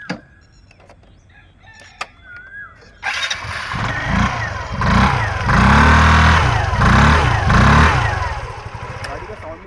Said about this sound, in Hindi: गाड़ी का साउंड भी लगभग बहुत ही प्यारा साउंड है, सुन सकते हैं।